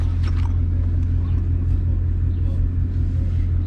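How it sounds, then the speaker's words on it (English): A car with newly installed lowering springs gives a steady, deep engine rumble, close and loud, with only a slight lift in revs. "I can give it a little rev"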